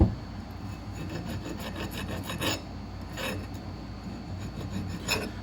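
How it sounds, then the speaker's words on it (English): A hand file rasps across an A36 mild steel test piece during deburring, with repeated close scraping strokes in an uneven rhythm and no talking. "Let's deburr this one a little bit if we can."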